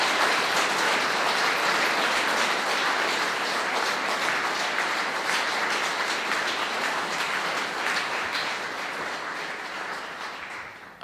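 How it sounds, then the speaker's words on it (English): Guests at a Windsor Castle state banquet for the French President break into sustained applause, dense and loud, holding steady before easing off at the end. "An outbreak of applause as everyone then rejoins their positions"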